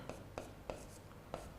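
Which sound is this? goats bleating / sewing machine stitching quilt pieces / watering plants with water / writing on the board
writing on the board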